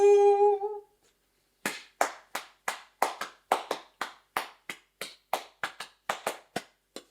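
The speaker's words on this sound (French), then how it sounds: "Vous pouvez m'applaudir de nouveau." A small audience at a French stand-up-style talk claps, first a sustained tone, then a brief gap, then a rhythmic run of sharp, evenly spaced claps, about two per second, close and distinct, with no talking.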